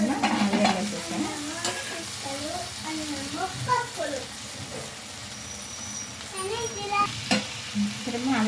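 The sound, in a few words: potatoes frying in a pan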